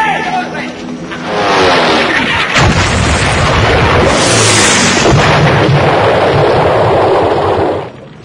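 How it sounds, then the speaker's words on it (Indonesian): Bombing explosions in a war film scene about Dutch forces attacking General Sudirman's troops, a loud sustained roar of blasts and rumble building after a second and cutting off near the end, with voices mixed in. "tiba-tiba Belanda datang dan mengebom wilayah di sana"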